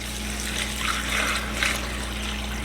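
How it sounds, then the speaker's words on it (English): Cold water poured into a large 16-quart stock pot over turkey bones, vegetables and herbs, a steady close splashing stream with no talk. "Now we're going to add some cold water."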